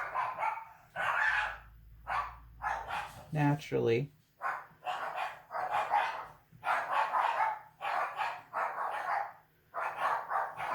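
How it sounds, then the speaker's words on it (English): Dogs bark at home in a short, sharp burst in the middle of the clip, heard between stretches of a person talking. "Oh, there goes my dogs."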